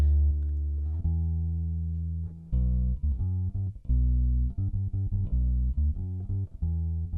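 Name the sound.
bass guitar track through MXR pedal with string noise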